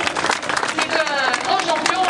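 An audience applauds a champion at a town twinning ceremony, steady dense clapping throughout, with a voice speaking over it.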